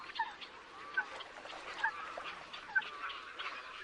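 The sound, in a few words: greylag geese calling at a lagoon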